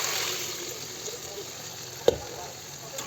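Chicken masala sizzling in a pan with a steady frying hiss, a small splash of water added partway through producing a brief sharp crackle before the sizzle settles again.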